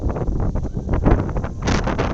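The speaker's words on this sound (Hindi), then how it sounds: "हवा बहुत तेज है यहाँ पे, और हवा की आवाज़ से आपको अंदाज़ा लग रहा होगा कितनी तेज़ हवा है।" Strong wind on a high Himalayan mountaintop near a temple in Nainital buffets the microphone in a continuous, loud rumble, gusting and swelling in waves with a brief hiss near the end.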